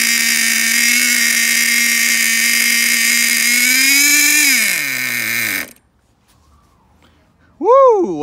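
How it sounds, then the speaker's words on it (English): A Traxxas Nitro Rustler RC car's small, high-pitched nitro engine buzzes loudly and steadily, revs up and winds down, falls silent, then briefly whines back to life. "So at least I know my engine works."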